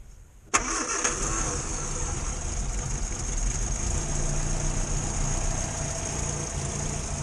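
First start of a new car engine: a sudden crank and catch, then a steady running idle with a high whine, continuing smoothly without knocks.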